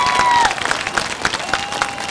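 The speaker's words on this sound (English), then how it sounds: "Ladies and gentlemen, a nice round of applause for Pete Rondo." A speedway crowd applauds for a race driver at Beech Ridge Motor Speedway in 1990, dense clapping filling the whole stretch at an even, lively level with a faint announcer tone fading early.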